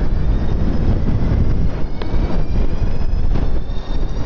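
A 72-volt mid-drive motor on an eBike pulls under throttle, a steady rushing drone mixed with heavy wind buffeting on the microphone, continuous and close with no voices.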